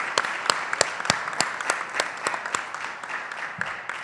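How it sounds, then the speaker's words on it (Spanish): A modest crowd at a federal transparency council assembly applauds a work commission, scattered hand claps rattling steadily for a few seconds at moderate distance. "Un aplauso para todos ellos"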